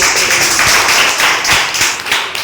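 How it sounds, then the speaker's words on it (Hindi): A group of students in a classroom claps loudly and close, a rhythmic burst of hand claps with some distinct individual slaps standing out from the steady patter. "ताली बजाइए"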